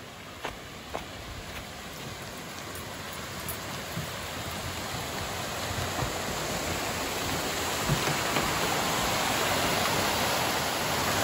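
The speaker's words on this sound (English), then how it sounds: "here's that man-made waterfall and the dam and reservoir behind it" A steady, full roar of water falling over a man-made waterfall at a dam fills the scene, constant and broadband, slowly growing a little louder, with no voices.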